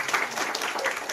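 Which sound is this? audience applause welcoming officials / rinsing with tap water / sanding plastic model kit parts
audience applause welcoming officials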